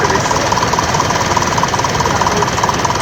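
A roughly 20-year-old TVR car with TVR's own 3.6 litre, 350 horsepower engine running at a vintage vehicle show, a loud, close, steady engine note with rapid pulsing.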